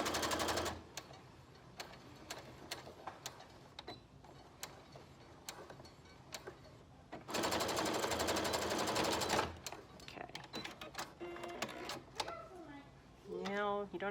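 Sewing machine stitching a pleated cloth mask, heard in one dense, loud burst of rapid stitching partway through, with scattered clicks, handling noise and speech before and after.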